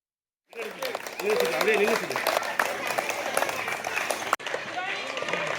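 Teachers clap by hand to welcome students at a school, a dense, steady patter of applause from a group that runs for several seconds with voices mixed in.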